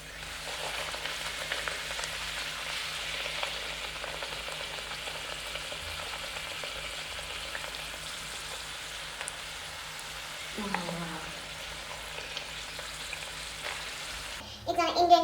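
Poori frying in hot oil gives a steady, soft crackling sizzle that continues throughout, with a short clatter and some faint voices toward the end.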